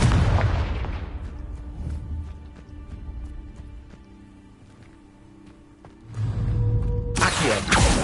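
A Confringo fire spell explodes in Hogwarts Legacy with a loud opening burst that decays into a rumbling tail, then a second powerful blast erupts near the end, both close and filling the scene without speech.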